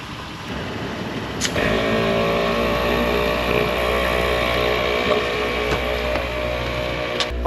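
Morflate system running off an air compressor, inflating all four tires of an overlanding vehicle at once, with a steady loud motor drone and a couple of sharp clicks, no talking.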